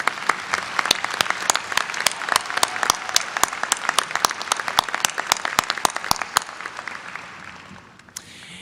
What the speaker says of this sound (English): You are certainly welcome to clap for her one more time.